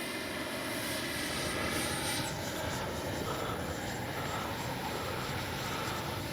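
A steady, fairly faint roar of an RC model jet in flight with a Baltic Bees livery, a continuous engine whine that shifts slightly in pitch as it passes at a distance.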